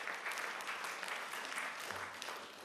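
An audience at a conference's closing remarks claps, a dense, steady wash of many hands that sounds somewhat distant and fairly quiet.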